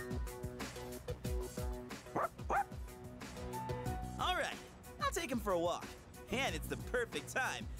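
A dog in the video game Persona 3 Reload gives several short yips and whimpering barks, close and clear, interleaved with game music and a person talking.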